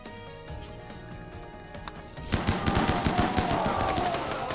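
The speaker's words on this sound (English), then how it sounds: "I hear chain shotguns just going ham, dude" Chain shotguns fire in rapid, dense bursts during a RimWorld raid, a quick rhythmic pounding that kicks in suddenly midway and continues loudly to the end.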